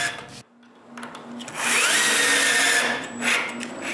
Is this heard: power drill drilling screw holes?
yes